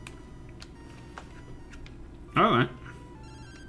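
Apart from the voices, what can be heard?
phone ringing in Pokémon video game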